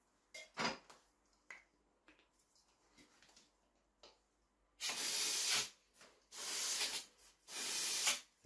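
Short hissing sprays in bursts from Mazda MX-5 Miata NC fuel injectors during a home cleaning, a few quick faint ones first and then three longer loud hissing blasts close by, with gaps between them.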